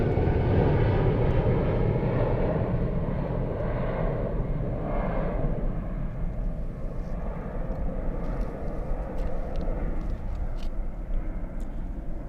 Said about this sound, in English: Alright, let's see this one flying to Corfu. Very nice. Edelweiss 332. That's an Airbus A320.